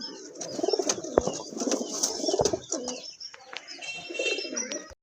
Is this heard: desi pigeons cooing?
yes